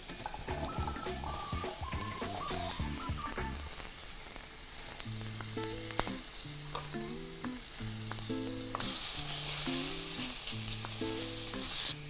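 Meat and vegetables fry in a Faberlic stainless steel pan, giving a continuous close sizzle that grows a little louder toward the end, with music playing in the background.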